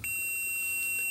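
An ohm meter gives a continuity beep while testing wiring on a Porsche 914, a single steady electronic tone held unbroken and close for about a second.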